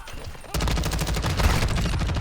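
A 556 Icarus machine gun firing in a video game, starting abruptly after a half-second into a steady, rapid, loud burst of automatic fire that continues to the end.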